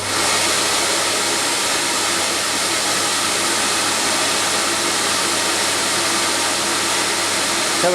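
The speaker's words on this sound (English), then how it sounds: "I'll connect both the baffle tubes now as we've got the 2 motor set up on" A CamVac dust extraction system runs two motors with both baffle tubes connected, giving a loud, steady, unbroken whine and rush of air that holds evenly from start to finish with no voices.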